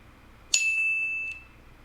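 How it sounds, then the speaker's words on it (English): A loud, bright electronic bell chime rings once from a multi-timer phone app, sustaining for about a second before cutting off, with no talking over it. "And we get a nice loud bell there"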